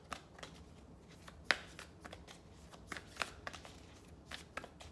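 A Moonology oracle card deck is shuffled by hand. Soft riffling and flicking of cards come close up and quiet, with occasional sharper snaps as the cards slide together.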